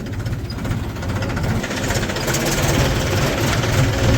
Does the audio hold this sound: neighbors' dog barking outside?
no